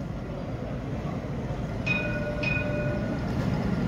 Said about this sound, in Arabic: شوف الترام شحال طابع البلاد